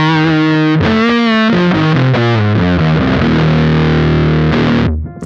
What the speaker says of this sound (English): If you turn it down, you're gonna get a darker sound.